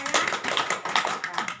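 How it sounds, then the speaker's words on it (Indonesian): A group of women applauds in a training session, brisk uneven clapping in several swelling bursts that fades out at the end. "mari kita tepuk tangan dulu ya untuk semuanya"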